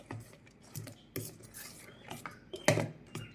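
A spoon mixes kuzhi paniyaram batter with chopped onion in a bowl, giving a string of soft, irregular scrapes and clinks close by, fairly quiet and with no talk.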